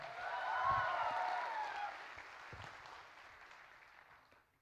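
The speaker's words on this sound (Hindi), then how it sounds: "तालियां" An audience applauds after a speech at a sponsored event, a fairly distant wash of clapping that swells, holds for a few seconds, then fades out.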